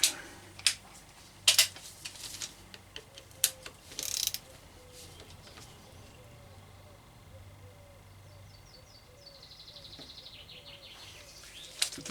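Wrench ratcheting on a bolt during a bevel gear oil change, a few brief clicking bursts near the start, then quiet mechanical background with faint birdsong outdoors.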